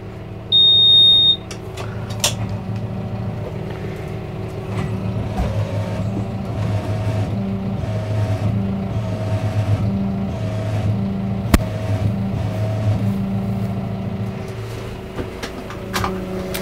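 A tractor carrying a roughly 1,620-pound load on a boom pole attachment holds a steady, low engine drone throughout, with a brief high electronic beep near the start and a sharp knock partway through.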